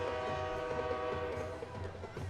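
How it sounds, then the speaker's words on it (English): A train rolls past right beside a high school football field on the railroad track, a loud, steady rumble of horn-like tones and rail noise filling the whole stretch close by. "Well, that's not the night train you hear in the background. That is an actual train."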